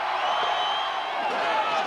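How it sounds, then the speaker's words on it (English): A large outdoor crowd at a punk festival cheers and roars continuously, a dense, steady wall of voices with no breaks. "To cheers from the crowd"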